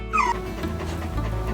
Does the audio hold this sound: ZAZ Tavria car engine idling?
no